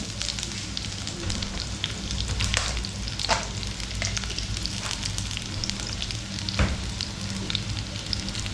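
Shallots frying in hot oil for an eggplant curry give a steady close sizzle, with a few louder pops and stirring scrapes throughout.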